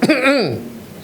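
A preacher clears his throat to imitate a father's cough, one short, rough, voiced rasp up close that dies away quickly.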